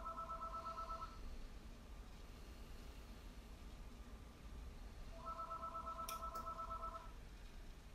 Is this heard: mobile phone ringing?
yes